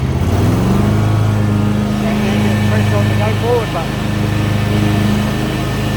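A Husqvarna TS242 riding lawn mower engine runs close and loud with its cutter blades engaged, holding a steady drone that rises slightly as it revs. Someone talks over the engine.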